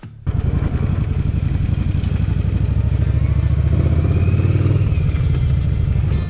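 A motorcycle engine starts up and rumbles loudly close by as the rider heads out, a steady throbbing idle with rough clattering pulses that swells slightly midway and holds to the end.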